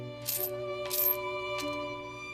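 Coins drop and jingle in three quick bright clinks, like loose change falling onto a hard surface, over a steady background hum.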